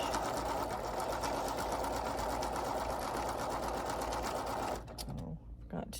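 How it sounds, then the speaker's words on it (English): A home sewing machine runs steadily for about five seconds, stitching a scant quarter-inch quilt-piecing seam, then stops abruptly, leaving quieter handling noises. "So I'm going to sew a nice scant 1/4 inch."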